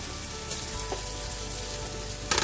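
Chopped sausage pieces brown in a pot with a steady, close sizzle and frying crackle, broken by a few brief clinks or stirring scrapes and a sharper burst near the end.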